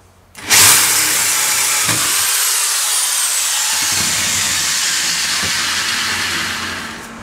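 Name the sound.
power drill drilling metal tube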